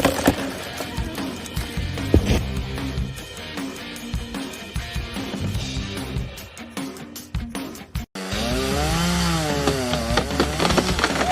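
A chainsaw cuts into tree wood, its engine loud and close, revving and bogging in rough bursts, then dropping out and roaring back at a higher, wavering whine.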